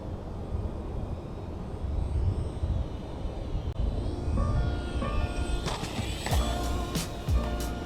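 FliteTest Tiny Tutor RC airplane with aileron mod flying overhead, its small electric motor whining and shifting pitch as it passes, with a few sharp clattering knocks late on, consistent with a bouncing landing.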